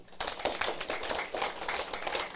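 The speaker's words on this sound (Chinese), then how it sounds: "啊，这拍手呢，各位" A lecture audience claps together in a dense, steady patter of many hands that carries on for a couple of seconds, fairly even in loudness, with no voices over it.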